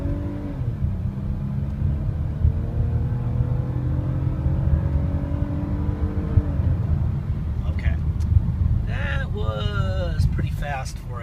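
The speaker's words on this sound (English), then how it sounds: "Was pretty fast for a minivan in a very short piece of territory with a 35-mile-an-hour speed zone." A 2013 Toyota Sienna minivan accelerates in a 35 mph zone, its engine a steady, close rumble whose pitch climbs for several seconds before settling, with brief higher vehicle noises near the end.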